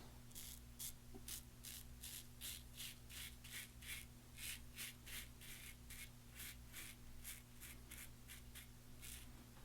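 A Razorine Flatboy razor scrapes stubble along the neckline, making a rapid series of short, crisp rasping strokes close to the ear, fairly quiet over a steady low hum.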